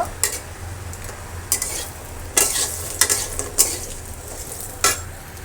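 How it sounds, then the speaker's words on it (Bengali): Pumpkin lentil dumplings (bori) frying in oil, a steady close sizzle with several sharp stirring scrapes and clinks spaced through it, no talk. "এই যে আমার বড়িগুলো সুন্দর করে ভাজা হয়ে গেছে"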